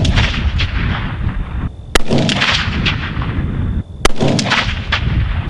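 Rifle shots fired downrange at a target 100 yards away, with two sharp, very loud cracks spaced about two seconds apart over a steady outdoor roar.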